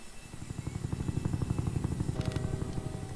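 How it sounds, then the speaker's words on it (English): An army helicopter in the Roblox Jailbreak game thumps with a fast, steady rotor pulse, loud and close and heard on its own, with a brief higher mechanical tone near the end. "Now I'm gonna climb up the ladder and get into the army helicopter right now"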